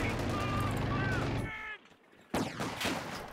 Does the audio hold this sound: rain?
no